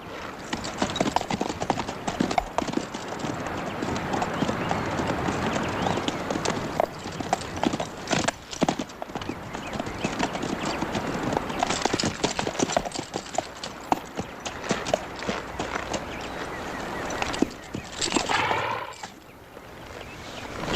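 Several horses walk steadily with dense, overlapping hoof clip-clops on the ground for about twenty seconds. A horse whinnies briefly near the end, and the herd sounds fairly close.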